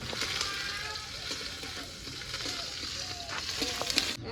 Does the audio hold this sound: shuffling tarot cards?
no